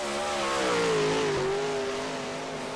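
Dirt late model race cars roar through a heat race at Riverside, a loud engine note climbing then easing as the cars race past, steady and close with no talk.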